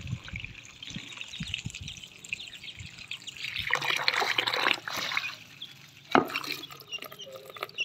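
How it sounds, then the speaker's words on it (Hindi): Water trickles and splashes into a container for chicks, soft and close, starting as faint dripping and swelling into a steadier pour with a few louder splashes near the end. "यहाँ पर मैं पानी भर रहा हूँ अपने चूज़ों के लिए"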